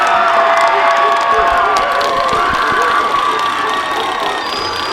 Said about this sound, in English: the crowd is very happy with what they see on the field